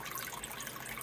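Water from a Tetra internal power filter tumbles in a small waterfall into a home aquarium tank, a steady close splashing hiss with no pauses.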